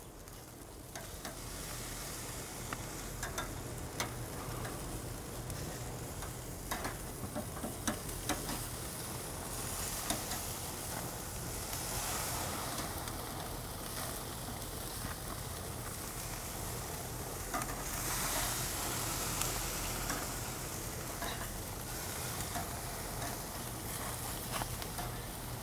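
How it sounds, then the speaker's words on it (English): Tenderloin steaks sear on a Weber Silver gas grill turned up high, giving a steady, dense sizzle that holds evenly throughout with no voices. "So gonna now check them out, so everything should be searing off pretty nice."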